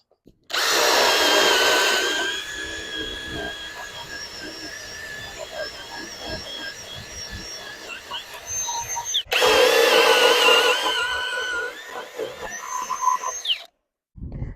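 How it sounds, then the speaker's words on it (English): A power drill bores bolt holes through 2x6 framing lumber, whining loudly and close in two long bursts, the first about nine seconds and the second about five, with a brief break between them. "Now we drill."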